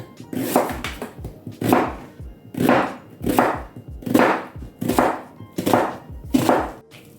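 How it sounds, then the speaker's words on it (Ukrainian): An onion is finely sliced into rings on a cutting board, about seven distinct knife chops in a steady rhythm, close and fairly loud, with no talking. "Цибульку розрізаємо на дві частинки і ось так міленько нарізаємо"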